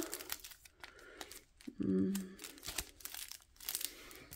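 A small plastic sachet from an embroidery subscription box being fumbled open, with brief crinkling and tearing bursts at close range, while a voice talks quietly over it.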